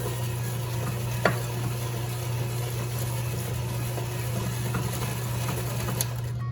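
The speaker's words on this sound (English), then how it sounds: "with my hand mixer fitted with my whisk attachment, I'm going to get this combined." A hand mixer fitted with a whisk attachment creams butter and granulated white sugar for cosmic brownies, giving a steady, close motor whir with a low hum that barely changes, plus one faint tap of the beaters against the bowl.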